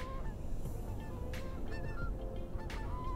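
Several geese honk intermittently over a steady low outdoor rumble, their calls moderately close and repeated.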